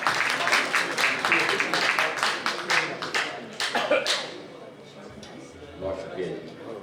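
An audience at a mushaira poetry gathering bursts into dense clapping for about four seconds, then the applause thins and fades, with voices and a cough in the hall.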